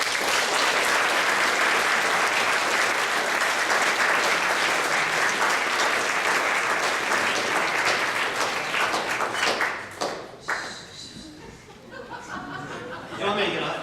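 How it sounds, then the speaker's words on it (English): Dense, sustained applause from a large audience at a graduation dinner fills the room at full loudness, then breaks off and thins into scattered clapping and chuckles. "we owe a big round of applause to ourselves"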